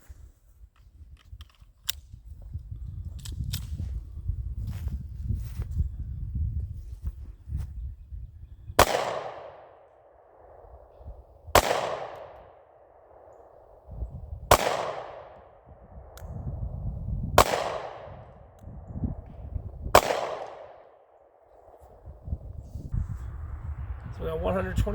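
A Sig P365 pistol fires five 115-grain 9mm full metal jacket rounds outdoors, sharp evenly spaced cracks about three seconds apart, each trailing a short echo, after a stretch of low rumble and faint clicks.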